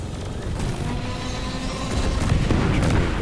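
Revolver gunfire in the video game Deep Rock Galactic: several sharp, loud shots cracking over dense, continuous game combat noise and rumbling explosions.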